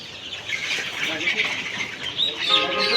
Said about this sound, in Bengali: মিশরি ফার্মি মুরগির বাচ্চা অরিজিনাল